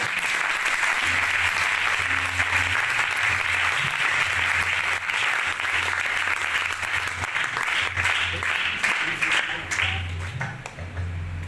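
Sustained applause from a crowd at a live Christian worship gathering in Lahore, steady dense clapping for the worship singer lasting throughout, with a low hum of music beneath and tapering slightly at the end.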